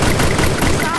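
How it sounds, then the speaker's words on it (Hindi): Gunfire in the battle-royale video game Free Fire, a dense, loud burst of rapid shots that fills the whole moment with little space between reports. "ठीक सामने से फायर आता है"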